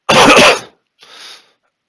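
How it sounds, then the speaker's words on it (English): Two coughs close to the mic: a loud, harsh cough followed after a short pause by a softer, shorter one. "sorry, I'm going to cough again"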